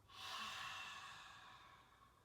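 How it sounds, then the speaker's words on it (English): One long audible 'ha' exhale, breathy and rushing, made with a slightly constricted throat during a yoga breathing session, close to the microphone and fading gradually. "That ha sound is created by constricting the throat a little bit."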